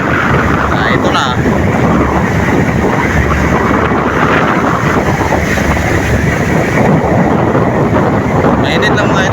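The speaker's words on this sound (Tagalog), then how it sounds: "yung malakas ng hangin dahil siguro panahon na siguro sa amihan" Strong wind roars and buffets the microphone continuously, a loud, steady broadband rush with no pauses.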